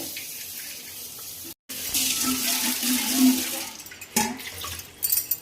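Fish is washed under running water from a tap, a steady splashing rush with a brief break partway through and a few louder splashes toward the end.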